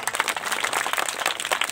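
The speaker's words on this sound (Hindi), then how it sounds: "एक बड़ी तालियां दी।" An audience at an Islamic quiz and naat competition claps loudly and densely, a close, continuous patter of many hands with no break.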